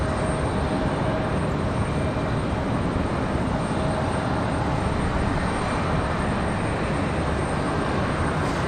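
A passenger plane departs Raleigh Durham International Airport, bound for Detroit, as a steady, loud broadband roar that holds unchanged throughout with no talking.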